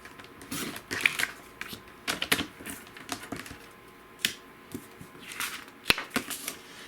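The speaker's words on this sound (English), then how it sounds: "we're gonna flip it around and we're gonna cut 1 inch off the bottom" Paper for Christmas cards is cut into strips, producing a series of crisp slicing and rustling sounds at an uneven pace, close and moderately loud, with no voices.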